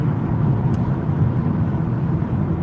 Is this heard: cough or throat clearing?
no